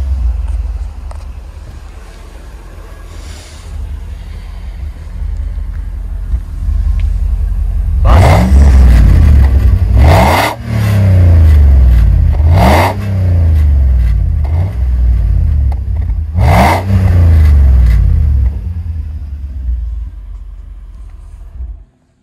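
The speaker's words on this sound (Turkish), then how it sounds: "Bir motor sesini dinleyelim. Bir egzoza tutuver Hasan." A Mercedes W124 engine idles low, then is revved hard several times in a row, each roar swelling and falling back, loud and close to the exhaust.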